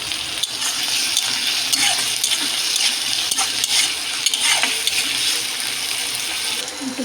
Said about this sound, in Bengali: একটু ভাজা ভাজা হয়ে এসছে